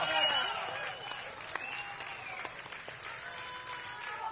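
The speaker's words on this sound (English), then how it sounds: "Give them a round of applause" A crowd at the Lele Aloha Ho'ulu Lahaina unity gathering claps, loudest at the start and thinning out, with sustained tones and some voices running underneath.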